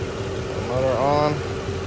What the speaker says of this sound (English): The motor on.